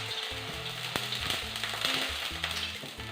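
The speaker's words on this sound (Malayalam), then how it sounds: "ഞാൻ ഒരു 2 സ്പൂൺ വെളിച്ചെണ്ണയാണ് ഒഴിച്ചു കൊടുത്തിരിക്കുന്നത്" Coconut oil poured into a hot frying pan while making vegetable semiya upma gives a steady close sizzle and crackle, with brief clatters of a pan or spoon, and no talking.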